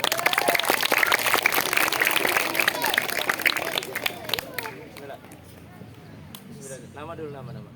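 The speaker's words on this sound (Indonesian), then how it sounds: "Berikan aplaus" Audience applause in an elementary school hall during a religious talk, a burst of dense clapping from a crowd of children that fades after about four seconds into quieter murmuring and voices.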